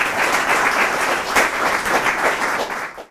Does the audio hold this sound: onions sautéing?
no